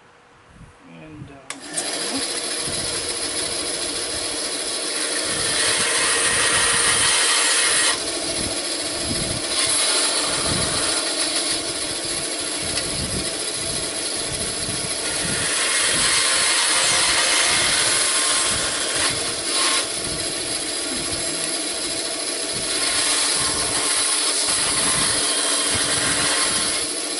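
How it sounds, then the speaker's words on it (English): A power saw cuts steadily through wood in repeated passes, loud and close, with brief pauses between strokes and a low engine-like drone throughout. "I'm just going to cut off the corners a little bit so they're not sharp"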